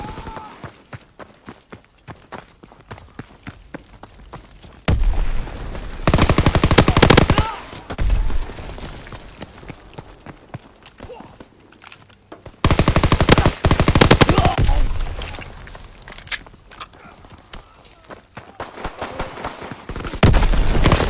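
Gunfire in the World War II shooter Call of Duty WWII during a team deathmatch: scattered single shots and loud sustained automatic bursts, some near and some more distant, with game effects and occasional voices in between.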